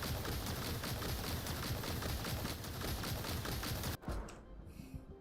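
Rapid weapon gunfire in Duet Night Abyss, a dense, loud, continuous stream of shots that runs for about four seconds, then cuts off abruptly into a quieter stretch with a few lighter effects.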